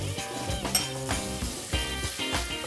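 Butter sizzling in a pan with sweated, translucent shallots, a soft steady crackle punctuated by occasional utensil clinks and stirring scrapes, moderately quiet with no talking.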